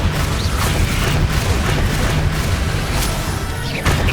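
An Accio summoning spell from the Hogwarts Legacy video game, a dense rumbling whoosh with grinding mechanical textures and scattered sharp cracks, loud and continuous throughout.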